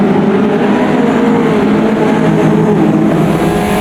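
Caterham race car engine at Cadwell Park in the racing game Automobilista 2, a loud, steady buzzing drone with the pitch holding fairly level as the driver works down through the gears, no talking.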